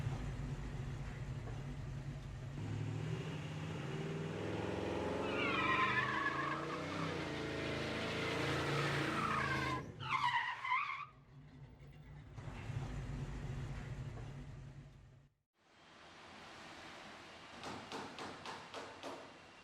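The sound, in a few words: tire burnout, squealing and smoking tires on a car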